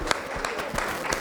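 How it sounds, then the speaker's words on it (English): Audience applause for a panelist at a beauty industry success panel, a short burst of steady, fairly close clapping with sharper claps standing out. "Can you get a round of applause,"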